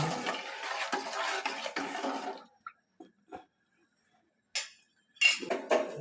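Sugar stirred in a pan over heat while making winter patishapta pitha: about two seconds of steady, close scraping and rustling, then a few sparse metallic clinks and taps separated by silence.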